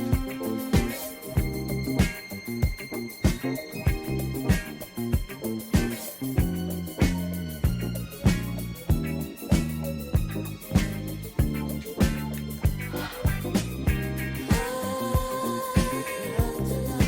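1970s disco track with a driving, slightly ahead-of-the-beat funk bass line under steady drums and layered instruments, loud and continuous throughout with a bright lift near the end.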